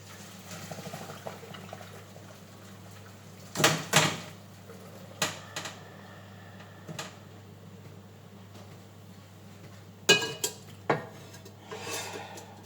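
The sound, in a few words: draining boiled potatoes in a colander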